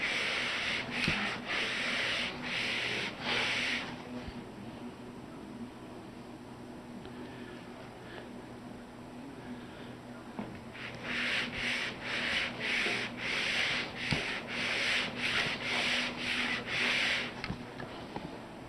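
Hand sanding of a guitar fretboard on a 1964-style ES-335 build with 220 grit sandpaper, steady rhythmic rubbing strokes in two clusters of rapid back-and-forth passes separated by a quieter stretch, close and clear.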